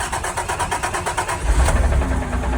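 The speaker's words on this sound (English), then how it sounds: "That tells you it's safe to start the truck." A diesel truck engine cranks and catches, rattling in quick rhythmic pulses before settling into a heavier rumbling idle close by.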